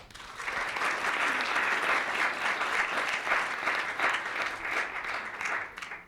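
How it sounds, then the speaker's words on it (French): Loud, sustained applause from a large audience at a round-table event, many hands clapping in a thick continuous wash that swells in and tapers off at the end. "Je voudrais également qu'on applaudisse"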